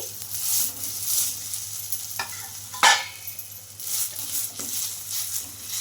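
Bottle gourd and wheat flour batter is poured onto a hot oiled pan and spread, giving a soft sizzle with light scraping and one sharp clink partway through.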